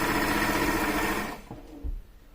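A HandiQuilter Moxie XL sewing machine stitches a quick quarter-inch seam on a quilted box, a loud close rapid mechanical whir that runs steadily for over a second, then stops, followed by a couple of soft clunks.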